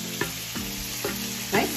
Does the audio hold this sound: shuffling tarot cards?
no